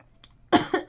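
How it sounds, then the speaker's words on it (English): After a moment of quiet, a person choking on a piece of candy coughs three times in quick succession, close and sharp. "I'm coughing, guys, because I'm choking on a piece of candy"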